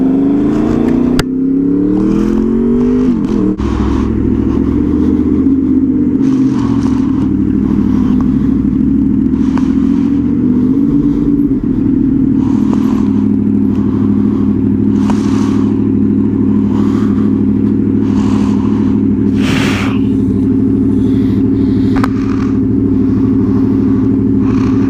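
A motorcycle rides through road traffic on the way to work, its steady mid-pitched engine drone loud and close throughout, with the note rising and shifting as it accelerates and wind noise rushing over it.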